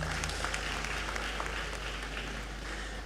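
Faint, steady applause from a graduation congregation in a great hall, a soft continuous patter of many hands over a low electrical hum, distant and quiet throughout.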